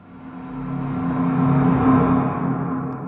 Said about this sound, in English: This is the sound of a minecart engine.